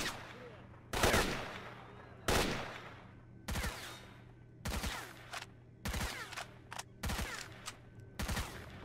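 Bursts of gunfire ring out in the video game S.T.A.L.K.E.R. Shadow of Chernobyl, about eight sharp volleys of varying length spaced across the stretch, loud and echoing with no talk over them.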